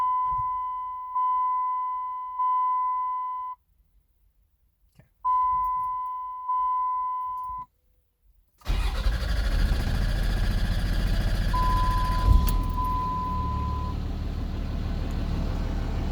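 An engine cranks over after two rounds of beeping alerts separated by silence, then catches and runs with a loud, rough, close rumble that holds steady, a brief tone chirping partway through.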